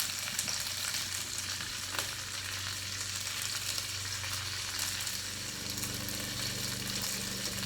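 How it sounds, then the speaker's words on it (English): Potatoes frying in a pan during West Virginia home cooking, with a steady, even sizzle and crackle that carries on alone throughout. "So while our potatoes are frying, I want to check on our beans."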